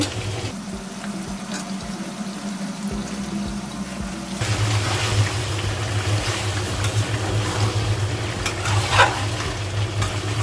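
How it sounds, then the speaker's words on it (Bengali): Chicken pieces being sautéed with spices in a pan for an elephant-foot yam curry, a steady sizzle with spoon scraping and stirring that grows louder halfway through as the pot is worked harder. "মশলার সঙ্গে মাংসটা খুব ভালোভাবে কষিয়ে নিব।"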